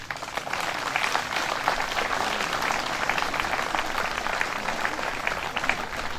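Outdoor crowd at a commemoration of an 80th anniversary arms parachute drop in Vendée applauding more than sixty flag bearers, a steady, even patter of many hands clapping at moderate distance throughout.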